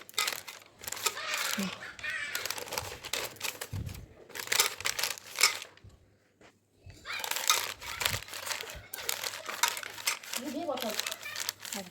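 Chhana (cottage cheese) cake mixture is wrapped up, giving crinkly rustling in bursts with a short quiet gap midway. Someone talks over much of the rustling.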